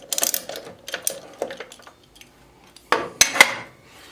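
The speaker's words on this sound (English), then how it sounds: "So this is going to take an Allen wrench, and don't forget, you want to turn it to the right to break this loose." Allen wrench turning and clicking against the laser screw on a miter saw, a few sharp metallic ticks and scrapes in short bursts, close up with no talking.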